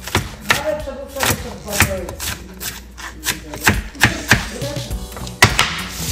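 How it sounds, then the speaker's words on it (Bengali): Red onion being chopped for salad on a board indoors during a barbecue dinner, a run of quick, sharp knife taps in irregular bursts, close by, with faint background voices now and then. "দেখেন, কাটিং মাস্টার পেঁয়াজ কুচি করছে"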